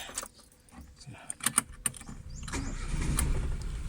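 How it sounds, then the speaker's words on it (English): A car engine cranks and catches after a blown ignition fuse is replaced, preceded by several sharp clicks and key jangles, then settles into a steady close running rumble. "Now the car starts."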